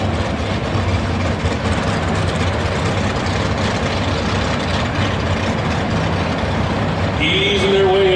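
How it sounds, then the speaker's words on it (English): Drag racing cars ease in at the Winternationals Super Stock qualifying, including a classic 428 Cobra Jet Mustang with a big block and 4-speed; a steady loud engine rumble under crowd noise, with a brief higher tone near the end. "The classic Cobra Mustang on the left side. Big block and a 4-speed."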